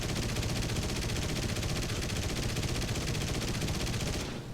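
Tail gunners of a TU-2s bomber fire in War Thunder, a dense, loud, unbroken machine-gun rattle lasting about four seconds before cutting off.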